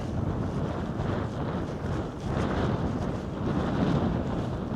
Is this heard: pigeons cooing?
no